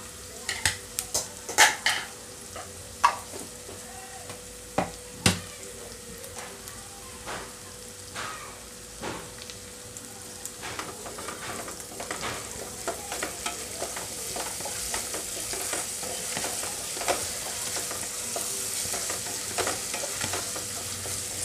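Ginger-garlic paste fries with onions in a pan for a stuffed brinjal masala curry; scattered utensil clicks against the pan come first, then a steady sizzle builds and fills the rest.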